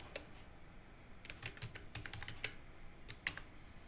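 Fingers typing on a computer keyboard, quiet clicking keystrokes in irregular bursts with short pauses between, close and alone without speech.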